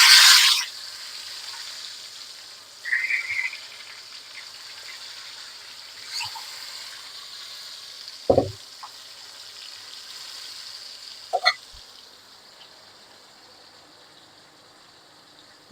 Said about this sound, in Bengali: এই যে কুমড়া ভাজিটা এবার করে নিব, সবগুলো দিয়ে দিচ্ছি একে একে করে।